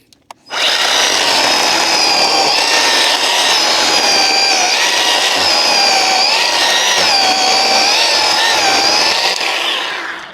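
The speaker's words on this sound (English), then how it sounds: "I did bring my little chainsaw with me, my little battery powered chainsaw" A Bauer 20-volt 10-inch battery-powered chainsaw whines steadily at high pitch for several seconds, close and loud, its tone wavering slightly as it bites through wood.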